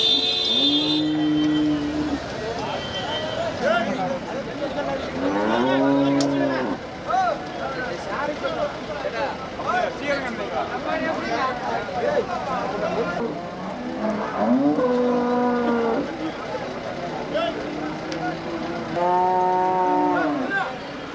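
Kangeyam cart bulls at a busy cattle market in Pollachi give several drawn-out moos spread through the clip, amid crowd chatter, traders talking and vehicle noise.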